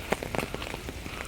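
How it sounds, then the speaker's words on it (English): Rain falls on a rainy university day in Korea, a steady soft patter with scattered sharper drop taps, moderate in level and without voices. "Raining."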